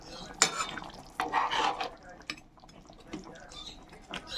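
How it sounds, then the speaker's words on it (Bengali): Tangra fish slipped one by one into thick, simmering curry gravy, with short clattering splashes and utensil knocks separated by quieter pauses. "ঝোলের মধ্যে ডুবিয়ে দিই মাছগুলো, তাহলে সিদ্ধ হয়ে যাবে"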